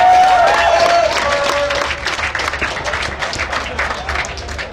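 A crowd at a drift event, a 2008 New Zealand versus USA battle, claps and cheers across a burst of mixed applause. It is loud at first, then thins and fades, with an announcer's voice over it at the start.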